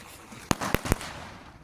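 Backyard fireworks go off in three quick sharp bangs about a fifth of a second apart, fairly close and loud, with a faint hiss of open air between them and no talking.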